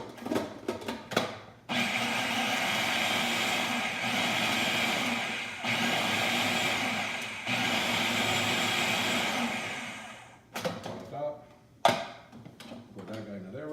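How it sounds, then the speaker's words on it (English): A food processor blends roasted, oak-smoked tomato salsa in loud, sustained whirring bursts separated by brief pauses, followed by clattering handling sounds near the end. "the food processor is going to do most of the work"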